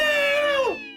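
A single cat meow, loud and close, a drawn-out tonal call that bends downward at the end and fades, heard alone without talk.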